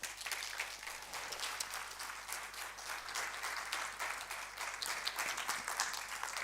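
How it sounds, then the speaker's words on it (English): An audience at a conference applauds warmly after a panel, a steady wash of many hands clapping heard at some distance for several seconds, with no voices over it. "Thank you very much for giving them that hearty clap."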